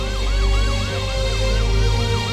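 An ambulance siren on a street crowded with illegally parked motorcycles wails in a fast, repeating up-and-down sweep, loud and steady over a dense low traffic rumble, with no voices.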